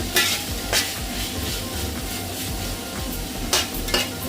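Leafy greens pulao ingredients fry and sizzle steadily in a pan, with a few sharp metal spatula scrapes and clinks against the pan at intervals; no one speaks.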